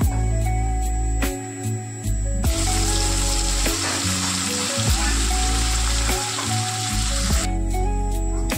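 Mint paste hits a hot pan for pudina rice and fries with a loud, steady sizzle, broken by brief stirring clatter and short gaps as it cooks close up.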